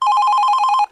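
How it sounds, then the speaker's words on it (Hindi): A telephone rings in a rapid trilling electronic burst, loud and close, with evenly pulsed tones that stop abruptly just before the end; no one speaks over it. "ये किसका फोन है?"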